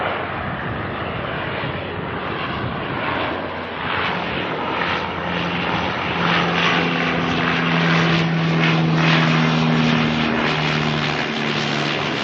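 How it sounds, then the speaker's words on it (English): A black De Havilland Canada Dash 8 turboprop lands at Auckland Airport, its propeller drone steady and fairly close, swelling as it passes with rising engine tones over broadband wind-like roar, with no talking. "There's the All Black Dashie landing again."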